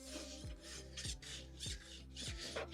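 A rasp files the edge of a horse's hoof during a barefoot trim, with five rhythmic, close, rough strokes at an even pace and no talk over them.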